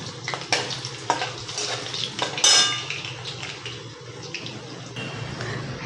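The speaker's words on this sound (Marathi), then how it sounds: "ह्या भाजीला एकसारखं हलवावं लागतं असं." Potatoes fry in a pan for a peas-and-potato sabzi while being stirred, with sizzling and repeated scrapes and clinks of a utensil against the pan, one louder clatter midway, and no talking.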